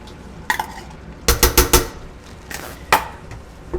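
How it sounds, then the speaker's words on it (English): Spoon clanking against a pot while nutmeg is stirred into bolognese sauce, a few scattered knocks and then a quick cluster of sharp scrapes and taps, close and clear with no talk. "Stir in the nutmeg, and then add the tomato paste."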